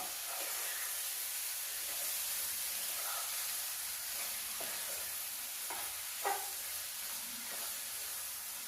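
Masala frying and sizzling in a pan with salt added, a steady hiss with occasional soft scrapes and clinks as it is stirred, no talking.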